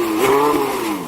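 Porsche 918 Spyder engine revving once, a loud, close rise in pitch that peaks and then eases back down as the revs fall, with no one talking.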